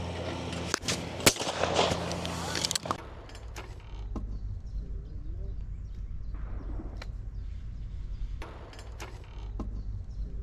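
A shotgun fires at a rising teal clay target outdoors, with a couple of loud, sharp bangs early on and then open-air ambience with faint voices.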